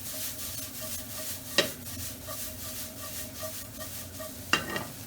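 Ground cumin, paprika and cracked pepper stirred through in a frying pan for Tunisian shakshouka, a soft steady sizzle with two sharp utensil clinks against the pan, close and quiet, with no talking.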